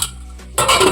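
Olive oil and carrots stirred together in a pot, a quiet metallic scrape giving way to a louder, steady clatter and sizzle for the last moments, with no voices.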